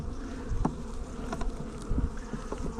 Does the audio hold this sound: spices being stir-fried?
no